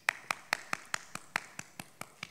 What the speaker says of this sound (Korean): 그래서 제가 박수를 쳐드리는 거예요.